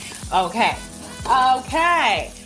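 Fried rice sizzling in a pot as ingredients are added back in: a steady, faint hiss runs beneath a person talking throughout.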